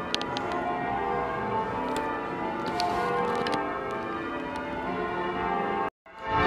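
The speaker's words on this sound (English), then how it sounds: "so the bells are ringing for the festival that's taking place." Church bells at St Nicholas Church in King's Lynn, Norfolk peal for a festival, a dense continuous wash of overlapping bell tones heard from nearby, steady and loud, cutting out briefly near the end.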